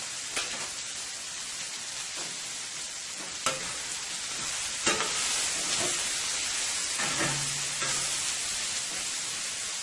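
Chicken wrap filling sizzles and crackles steadily in a pan, a dense hiss with occasional sharper pops and faint stirring taps.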